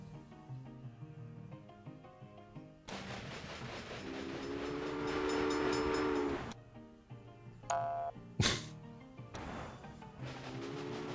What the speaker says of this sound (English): That train's now gone the wrong way.